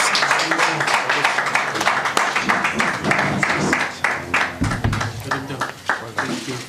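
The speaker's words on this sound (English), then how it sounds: "A round of applause." Audience clapping greets a football coach at a Kaizer Chiefs club briefing, a fairly loud, dense patter of hands that thins toward the end, with talk mixed in.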